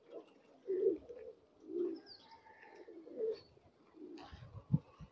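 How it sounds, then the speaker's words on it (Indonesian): Pigeons in Hyderabad, India coo in soft, low repeated phrases, about four rounded calls over a few seconds with short pauses between them, close by against a quiet background. "itu merpati semua tuh. Banyak merpatinya ya."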